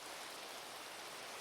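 Rain in Minecraft falls as a soft, even hiss of steady downpour, quiet and unbroken, with no voices.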